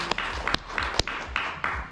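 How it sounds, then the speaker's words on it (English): Audience at a fan convention Q&A applauding the guests of honor, a brief patter of claps with several sharper individual hand claps standing out, moderately distant in a hall. "You can applaud them."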